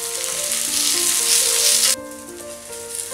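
Stuffed roti with its potato filling side down sizzles on a hot tawa, a loud broadband crackle that drops sharply partway through to a quieter simmer, with faint tonal kitchen hum underneath and no talking.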